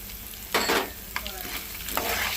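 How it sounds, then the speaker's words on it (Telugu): Dried red chilies and tamarind frying in oil on a low flame: a soft, steady sizzle with a few louder scraping stirs of a spoon against the pan, close and without talk. "ఇవన్నీ మంచిగా ఫ్రై మంచి ఫ్రై అవ్వాలి లో ఫ్లేమ్ మంచి ఫ్రై చేసుకోవాలి మాడనీయకుండా"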